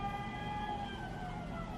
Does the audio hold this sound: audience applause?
no